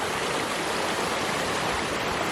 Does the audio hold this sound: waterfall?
yes